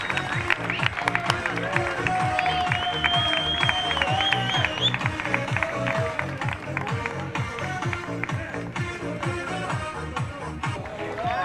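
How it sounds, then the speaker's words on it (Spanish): Applause from the crowd at an awards ceremony for the super promocional class of the Rally Santafesino in Villa Eloísa, a dense, steady clapping that runs the whole stretch with a faint announcer's voice and a whistle over it. "Aplausos para el podio de la categoría super promocional."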